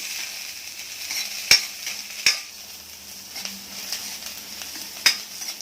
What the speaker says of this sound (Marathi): थोडंसं अद्रक झालं की कांदा टाकून घ्यायचा.